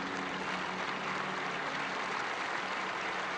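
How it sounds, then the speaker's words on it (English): A large crowd applauds in St. Peter's Square during Pope Francis's funeral procession, a dense, continuous wash of clapping heard from a distance, steady and even throughout. "Applause rose up across St. Peter's Square."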